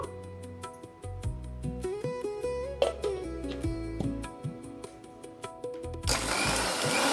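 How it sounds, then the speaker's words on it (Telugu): A mixer grinder motor whirs in rising and falling bursts while blending mango pulp and coconut milk, then runs in a loud, steady roar near the end. "మామిడికాయ గుజ్జు, ఈ కొబ్బరి పాలు రెండు మిక్సీకి వేసుకున్నాము"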